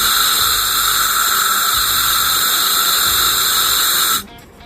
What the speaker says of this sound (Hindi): यहाँ पेट्रोल डाल दिया है, हल्की हवा मारेंगे यहाँ पे।